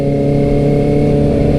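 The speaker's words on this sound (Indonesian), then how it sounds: "suara 4 silinder itu udah bikin orang melongo cuy ya" A four-cylinder motorcycle engine drones steadily at close range, loud and continuous, with no voices over it.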